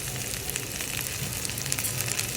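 Chopped garlic and onion fry in a pan with a dense, even sizzle up close, crackling steadily with small spits and no voices.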